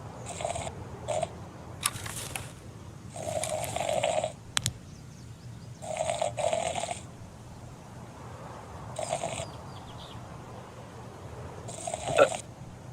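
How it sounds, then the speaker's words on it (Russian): A man snoring loudly, a repeated series of rough breathy snores with pauses between them, close by and with no talk. "А, это храпит он, ага."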